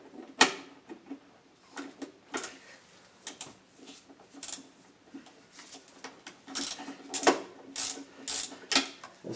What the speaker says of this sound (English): I'm going to use a 10mm socket with a long extension and a 3/8 ratchet.